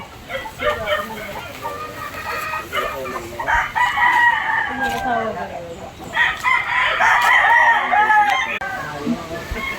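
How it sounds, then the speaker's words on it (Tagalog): Chickens on a farm in the Philippines cluck and crow in a busy, overlapping chorus, with a rooster's call rising clearly near the middle, close and fairly loud, while people talk intermittently. "Daming manok."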